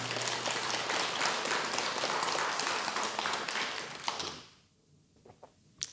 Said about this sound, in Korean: 그럼 박수 한번 칩시다.